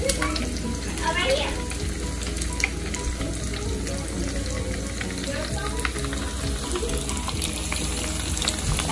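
Beer-battered orange roughy frying in a pan of grease on a stovetop, a close, steady sizzle with scattered pops and crackles and occasional stirring or shifting throughout.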